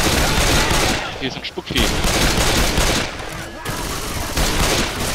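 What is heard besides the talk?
gunfire in the video game Left 4 Dead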